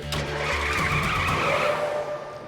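A cartoon vehicle peels away with a loud, close tyre screech that swells and holds for a couple of seconds before tapering off.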